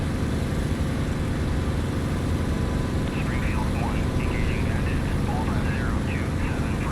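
Warbird aircraft engines in the flight game DCS, a loud, steady droning roar that fills the whole stretch, with voices talking over it.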